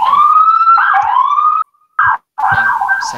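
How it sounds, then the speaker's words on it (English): Wailing emergency sirens in the background rise and fall across the clip, loud and continuous, cutting out briefly twice before returning. "sirens in the background"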